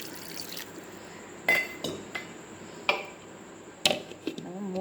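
Water is poured into a steel mixer jar holding soaked adai dosa ingredients, a thin steady trickle broken by several sharp metallic clinks and knocks close by.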